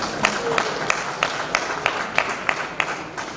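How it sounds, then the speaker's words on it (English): A seated audience at a Nigerian TV discussion event claps in a regular, evenly spaced rhythm for an honoured guest, each sharp clap distinct over low room murmur, moderately loud and nearby. "I will appreciate if you clap for Honorable Bagos."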